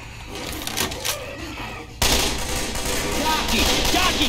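Rapid automatic gunfire from the zombie shooter Left 4 Dead 2 rattles throughout, lighter bursts at first, then a louder, denser stretch of sustained shooting for the second half, with faint voices underneath.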